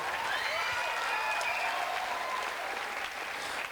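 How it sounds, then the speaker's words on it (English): Audience at a poetry slam applauding the poets, a fairly faint, distant wash of steady clapping from a crowd, continuous with a slight dip near the end. "Applaud the poet. And give it up for every poet in the second round."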